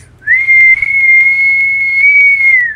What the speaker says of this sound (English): you must be great at whistling